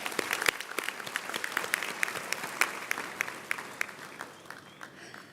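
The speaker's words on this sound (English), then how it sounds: "Let's give another round of applause." A graduation ceremony audience claps together in a large hall: dense, steady applause with sharp individual claps standing out, holding for several seconds before gradually thinning toward the end.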